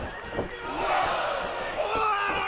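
Arena crowd at a Texas Bullrope wrestling match in Dallas roars steadily, a dense sustained wall of cheering with scattered shouts and thumps rising through the noise.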